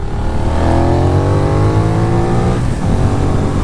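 A Benelli 752S with a 750 cc, 77-horsepower engine accelerates on a ride, its note rising smoothly through the revs before easing off, loud and steady with wind noise around it.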